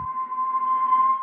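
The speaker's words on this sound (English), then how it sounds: "added a whistle from their instrument section" A single pure, steady whistle tone from an FL Studio instrument sample holds for about a second, clean and isolated with a faint breathy edge.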